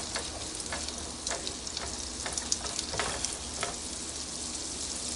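Chopped garlic cooking lightly in a pan, with a close, continuous sizzle broken by scattered crackles and the clicks of a stirring utensil.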